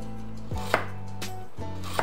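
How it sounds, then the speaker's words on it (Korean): Knife cutting through peeled lotus root into slices about 5 mm thick, a few crisp chops over a steady hum with no talking. "연근을 썰어 보겠습니다"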